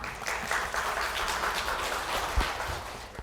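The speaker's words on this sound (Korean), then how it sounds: "다들 큰 박수 부탁드리겠습니다" At a health lecture, the audience claps to welcome a gynecology professor to the stage, giving a steady, moderately loud round of applause that fades at the close.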